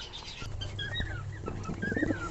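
Young white fantail pigeons coo softly in a loft, low repeated coos rising near the end, with faint chirps and background rustle.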